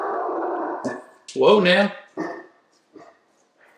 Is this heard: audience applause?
no